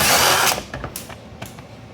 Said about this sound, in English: Got our 1/4-inch impact.